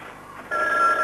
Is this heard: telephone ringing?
yes